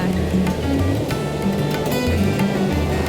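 Big waves breaking along the Cornwall coast in winter, a continuous heavy roar of surf and churning water that fills the scene steadily without pause, close and loud.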